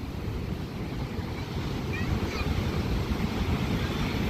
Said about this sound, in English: Look at that wave coming in out there right now.